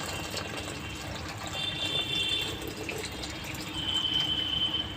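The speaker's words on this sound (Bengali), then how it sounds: "এবার আমি পরিমাণ মতো জল দিয়ে দেব।" Water pouring and splashing into a cooking pot while fish curry simmers, a steady continuous close stream with no talk.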